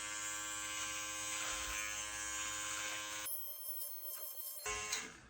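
An electric beard trimmer fitted with a number 8 guard buzzes steadily and close, its high whine cutting out for about a second before restarting briefly.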